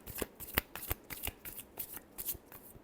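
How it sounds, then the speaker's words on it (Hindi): Tarot cards are shuffled close up in a rapid series of crisp riffling snaps and flutters, about a dozen sharp bursts in quick irregular rhythm, with no talking. "Last shuffle."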